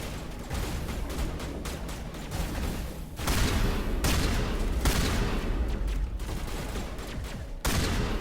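Shotgun fire from a Vanguard in the video game Mass Effect, dense repeated blasts and booms layered over loud game music and effects, with sharp bursts near the middle and end.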